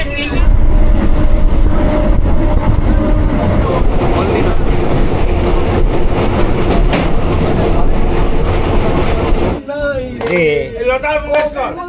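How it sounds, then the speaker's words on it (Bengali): A train departing Nandakumar station rolls along the rails with a loud, steady rumble and clatter, close by, fading toward the end as voices and other sounds emerge. "কিন্তু ট্রেন লেট করলো এবং এই ছাড়লো জাস্ট"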